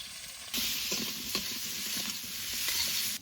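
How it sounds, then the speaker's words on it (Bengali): Potatoes dropped into hot oil left from frying river fish, a loud bright sizzle that bursts in suddenly and holds steady, with a few stirring clatters and spatters. "মাছ ভাজা তেলে আলু ভেজে নেবো।"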